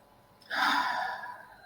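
A single deep breath during a calming breathing exercise, close and soft: a long airy draw of air that swells quickly and then tapers off slowly.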